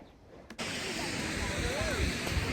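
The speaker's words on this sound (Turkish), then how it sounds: "Burası İrlanda'nın en uzun şelalesi." Ireland's longest waterfall, a steady, loud broadband rush of falling water that starts abruptly and continues without a break, with no talk heard over it.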